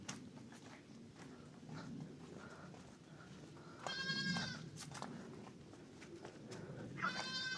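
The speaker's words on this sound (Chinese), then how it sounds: "这個搭的棚子就是養山羊的" Goats at a goat shed in a near-abandoned mountain village, two short bleats heard at moderate distance over a faint rustling background, with no talking.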